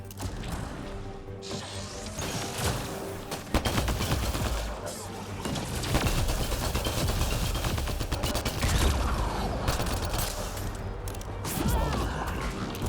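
Gunfire in Mass Effect: Andromeda: dense, sustained bursts of weapon fire with crashing impacts, loud and continuous throughout, mixed with game sounds and occasional voices.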